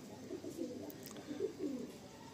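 Madrasi pigeons at a sale in Garia, Kolkata, giving soft, low cooing calls in several short bursts, moderately close against a quiet background with no talking.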